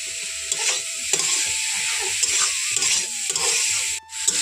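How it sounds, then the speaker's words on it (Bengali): Grated winter vegetables with salt are stirred in a hot pan, giving steady sizzling under repeated close scraping strokes of a spoon. No one speaks. "তো এখন সবজিগুলো লবণ দিয়ে এইভাবে নাড়াচাড়া করে"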